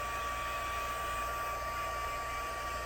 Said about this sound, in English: blow it with some more air from your hand blower